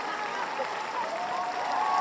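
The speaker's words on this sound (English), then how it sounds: "I want to clap" Steady applause from a crowd fills the whole moment, with voices calling out over the clapping.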